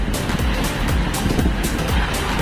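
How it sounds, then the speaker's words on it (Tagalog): Strong wind and rough sea waves pound a small boat, a loud, steady roar of rushing air and water with a few heavier surges and no clear voices. "Malakas po yung hangin saka maalon."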